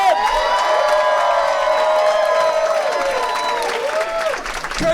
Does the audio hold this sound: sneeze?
no